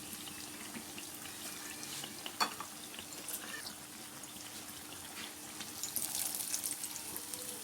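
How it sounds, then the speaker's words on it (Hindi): Eggplant pakora fries in hot oil, giving a steady, low sizzle with faint bubbling throughout and one brief sharper clink partway. "अब 2 से 3 मिनट हम इसकी इस साइड को भी पकाएंगे।"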